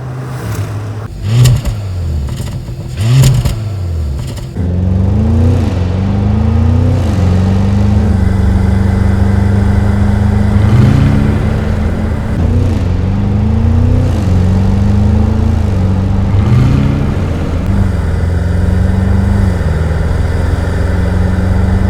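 A 2024 Porsche Cayenne Turbo E-Hybrid engine idles with a loud, close, deep hum, then is revved repeatedly, each blip rising and falling in pitch in a steady rhythm.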